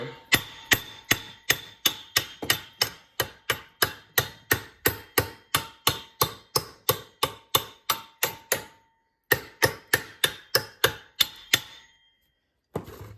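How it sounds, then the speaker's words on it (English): A hammer strikes the wheel studs and knuckle on the front Dana 60 hub of a 2001 Ford F-350, ringing metallic blows in a steady rapid series of about thirty hits, loud and close, pausing briefly before a few more. "we're gonna hit the stud all the way around as well on both sides"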